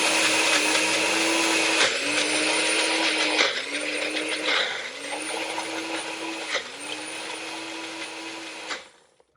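A kitchen blender whirs loudly as it grinds brown onions and Greek yogurt into a paste. The motor runs in several pulses, its pitch dipping and rising at each restart, before it winds down at the end.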